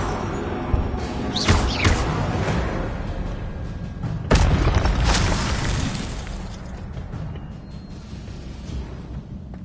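Incendio fire spell blasts in the Hogwarts Legacy video game, several bursts of fiery whooshing and thumping impacts over a steady game backdrop, with two stronger blasts standing out.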